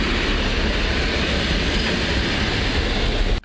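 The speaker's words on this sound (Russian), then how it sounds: "Такая небольшая электричка приехала" A small electric commuter train arrives at a platform, rumbling loudly and continuously nearby, a broad steady roar of wheels and motors that cuts off abruptly at the end.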